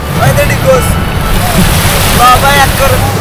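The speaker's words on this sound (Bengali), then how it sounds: "প্রচুর ঢেউ, তাই নৌকা টেনে আনতে খুব কষ্ট হচ্ছে।" Heavy sea waves surge and wash against the shore beside a wooden boat off Sonadia Island at Moheshkhali, with steady surf and wind noise on the microphone, while voices talk loudly over it.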